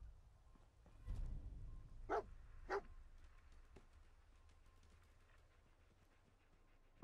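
Dogmeat, the dog in the video game Fallout 4, giving two short barks in quick succession after a low thump, then a quiet stretch.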